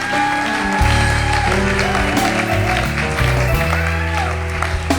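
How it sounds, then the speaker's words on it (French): An audience at a church convention applauds and cheers, a sustained wash of clapping and crowd voices mixed with loud music. "Ton acclamation me dérange."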